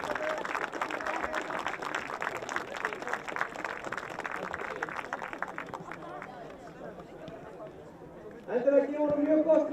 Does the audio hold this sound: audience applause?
yes